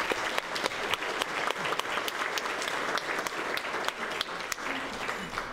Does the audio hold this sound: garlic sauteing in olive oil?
no